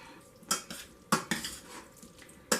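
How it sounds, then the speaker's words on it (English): A utensil stirs green beans in a pan, making several sharp clinks and scrapes against the metal, irregular and close, with soft rustling in between and no talk. "and I'm going to stir it."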